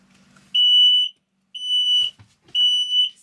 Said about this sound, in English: so I know y'all heard the beep